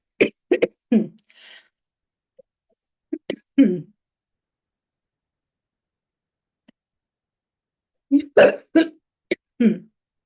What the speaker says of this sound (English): I had a major cough